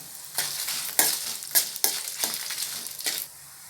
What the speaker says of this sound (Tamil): 1 ஸ்பூன் அளவுக்கு எண்ணெய் சேர்த்துட்டு இதை கருகாமல் வறுத்துக்கலாம். இது கூடவே 6 வரமிளகாவையும் சேர்த்துக்கிறேன்.